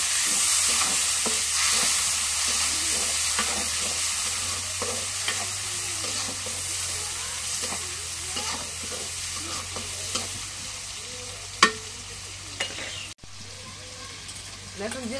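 Cooking oil sizzles steadily in a pan while a gourd and fish curry is being made, with stirring scrapes and a few clinks over the hiss, and a voice speaks briefly now and then.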